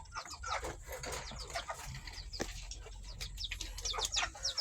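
Chickens cluck and scratch busily nearby as they are fed coconut, with small birds chirping and occasional wing flaps over a steady low background hum.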